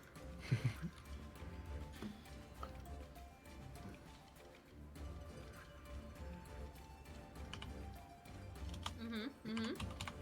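Fast, light computer keyboard typing clatters in quick irregular bursts, fairly faint, over a low background hum with occasional soft sounds.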